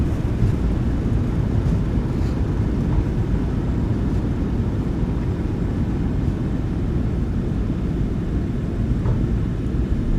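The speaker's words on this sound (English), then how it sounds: "Reversers are out. Decelerating." Thrust reversers of a PMDG 737-800 airliner in the MSFS2024 flight simulator, deployed on the landing roll: a loud, steady, low engine roar that holds evenly for the whole stretch, with no talking over it.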